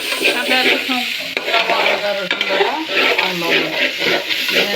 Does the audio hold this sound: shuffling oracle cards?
no